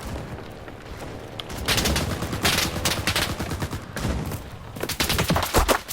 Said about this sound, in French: Ah, c'est une mitrailleuse, d'accord.